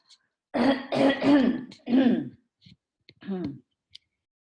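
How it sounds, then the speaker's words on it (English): A few throaty coughs and throat clearing in quick bursts, close and fairly loud, followed by a brief quieter cough and faint clicks. "Excuse me, I'm going to have a cough."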